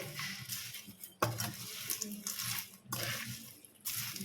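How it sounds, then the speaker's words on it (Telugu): Bitter gourd pieces with garlic and chilli masala being stirred in an oiled pan, with scraping spoon strokes against the metal under a steady sizzle, repeated in bursts while someone talks. "అన్నీ వేసి మంచిగా అడుగు నుంచి పైకి పైనుంచి ఇట్లా కలుపుకోవాలి"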